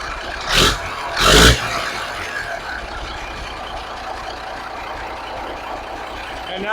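A 1983 Kenworth cabover truck with an electric fuel pump idles steadily at close range, a low continuous engine rumble broken early by two brief louder bursts.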